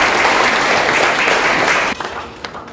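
Audience applause welcoming a lecturer at a forum talk, dense loud clapping from a crowd that holds steady, then drops off sharply with a few last claps trailing.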